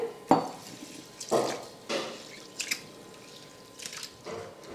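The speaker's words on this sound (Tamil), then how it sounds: "இப்போ தண்ணி ஊற்றி ஒரு 2-3 முறை நல்லா பாசிப்பருப்பை கழுவி எடுத்துக்கிறேன்." Moong dal lentils being washed in water in a kitchen, a series of separate splashes and wet clinks spaced about a second apart, close and fairly quiet, with no talking.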